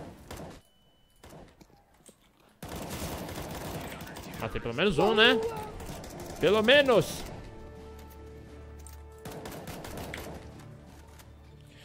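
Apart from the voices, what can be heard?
gunfire from the video game Counter-Strike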